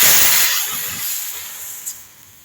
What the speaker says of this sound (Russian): Пробный пуск. Ох, ох, ох! Вот это давление!